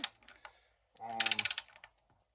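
A 1906 Walden socket wrench tightens a bolt, giving a quick burst of about ten sharp ratchet clicks close by, with a few faint handling taps beforehand.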